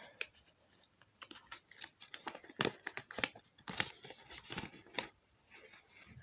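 Paper squishy blind-bag packaging is torn and crinkled open by hand up close, with bursts of rips, rustles and crackles of uneven loudness scattered over several seconds.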